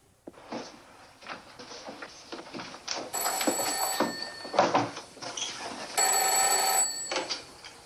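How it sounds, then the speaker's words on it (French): A telephone rings in two loud bursts, its bell trilling steadily over faint room noise. "Appelez Burnside au téléphone."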